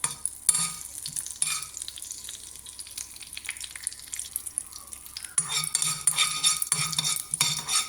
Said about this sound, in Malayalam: കടുക് പൊട്ടി തുടങ്ങിയപ്പോൾ മാങ്ങ ഇട്ടു